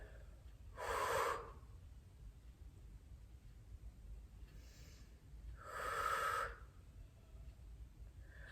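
Two slow, breathy exhalations several seconds apart during a home Pilates stretching workout, each a soft rushing out-breath that sits close to the mic over a faint background hum.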